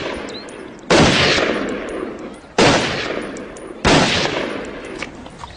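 Three loud, sharp gunshots ring out about two seconds apart, each followed by a long echoing decay, with no talk over them.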